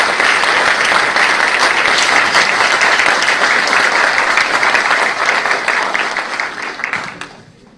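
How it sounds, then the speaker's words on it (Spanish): An audience at a law faculty lecture gives a speaker loud, sustained applause from many hands, steady at first and then fading out over the last couple of seconds. "Le damos un fuerte aplauso"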